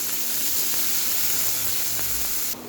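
Soaked red lentils, about 100 grams, hit a hot pan with turmeric and salt, giving a steady, loud, close sizzle and hiss that runs throughout, dropping off slightly at the very end.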